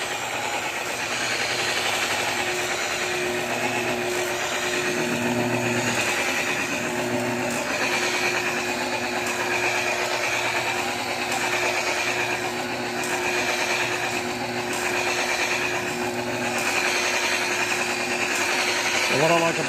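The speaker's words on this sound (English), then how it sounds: "what I like about this buffing machine, if you can hear me, is that I can increase the power right here at my thumb" An electric buffing machine polishes a sailboat hull with a steady, moderately loud motor whine and a buffing hum, running continuously while a person talks over it.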